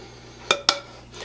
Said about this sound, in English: just mix it together till it's just combined